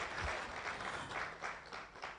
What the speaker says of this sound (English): A stronger round of applause.